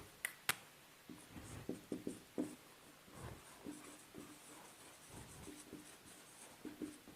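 Pen or chalk writing during a biology lecture, quick scratchy strokes and taps in short irregular bursts, close and quiet with no voice.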